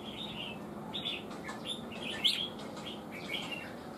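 Red-whiskered bulbul, a trapped fighting bird, gives short chirps and whistled notes at moderate distance, with one brighter call standing out near the middle over steady background noise.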